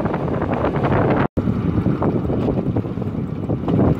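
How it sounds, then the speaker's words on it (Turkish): Strong wind buffeting the microphone, a loud continuous rumbling roar with a brief dropout partway through. "Evet gençler, hava çok rüzgarlı."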